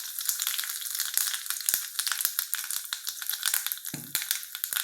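Mustard seeds, curry leaves and asafoetida crackle and sputter in hot oil, a steady close-up sizzle dotted with sharp pops and spits that fill the whole stretch, with no talking.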